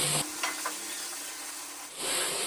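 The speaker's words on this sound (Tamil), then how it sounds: "நம்ம சேர்த்துட்டு இருந்த தக்காளியை நல்லா பொழஞ்சு வேகணும் அது வரைக்கும் வந்து நம்ம இதை வதக்கிக்கலாம்" Tomatoes sautéing in oil with onion and green chilli for a dried fish curry, a close, steady sizzle with soft scraping stirs that dips briefly before the hiss returns, no voices.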